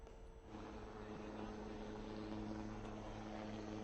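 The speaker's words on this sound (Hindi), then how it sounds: "हेलीकॉप्टर बिल्कुल लैंड करने वाला है" Light Combat Helicopter (LCH) coming in to land, a steady loud rotor and turbine drone with a continuous hum and low throb throughout, heard from a distance.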